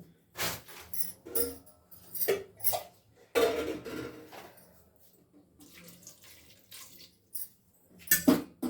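Water runs and splashes in short bursts into a metal pot to melt jaggery, with clinks of cookware between pours and quiet pauses.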